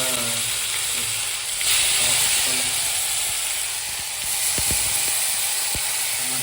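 Tomatoes tipped into hot oil with cumin seeds in a home kitchen, a steady loud sizzle and hiss that swells as they go in, with a few soft clicks of stirring near the end.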